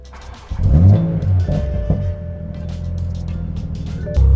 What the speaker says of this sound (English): We'll go ahead and start the car.